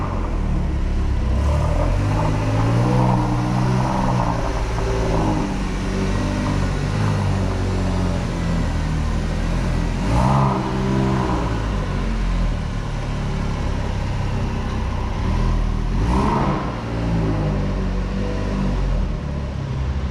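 A Porsche Carrera 2S engine starting after sitting unused for months, rumbling steadily with low idling tones, rising in brief revs a few times before settling back, close and loud throughout.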